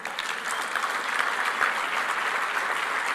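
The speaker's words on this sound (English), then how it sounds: "Pause for applause." Audience applause at an industry awards speech by a rock band member, a steady dense wash of clapping that holds at even loudness throughout, with no voice over it.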